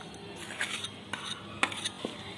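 A spoon scrapes and clinks against a bowl while mixing crushed jaggery and cardamom into ground paniyaram batter, producing a few scattered metallic taps and soft wet stirring, close and without talk.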